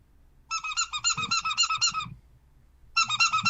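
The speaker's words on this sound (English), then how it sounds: "this is like a Foley work for like a squeaky toy" Squeaky pet toy worked as Foley, giving rapid rhythmic squeaks in two bursts, a long run and then a shorter one after a pause, loud and close with faint handling noise beneath.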